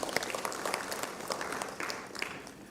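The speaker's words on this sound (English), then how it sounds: "So round of applause to you" An audience applauds at a women's leadership summit in Bengaluru, a dense, steady wash of many hands clapping that fades slightly toward the end.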